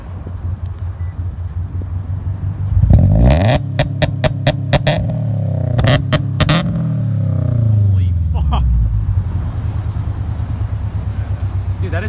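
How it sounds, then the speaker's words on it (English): Loud, close Subaru BRZ launch on an E85 stage 2 tune: the engine idles, then bursts into a hard rev held at the limiter with rapid stutters, followed by a long rising pull as the car accelerates and fades. "Alright, Tim is trying the launch."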